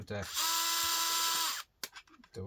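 A small Work Zone electric screwdriver whirs in one sustained, high-pitched motor run of just over a second, close by, with someone talking before and after it.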